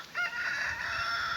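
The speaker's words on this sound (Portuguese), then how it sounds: "E as galinhas estão indo lá para o pasto." Free-range chickens on a rural farm cluck and cackle close by, making one short, continuous burst of calls with no talk.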